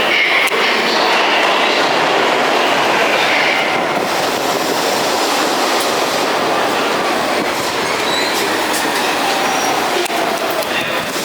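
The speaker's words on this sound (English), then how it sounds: "That's the 3 train coming." A New York City 3 subway train pulls into the station, its loud, close rumble and clattering wheels running continuously, with faint squeals and a slight easing of the roar toward the end.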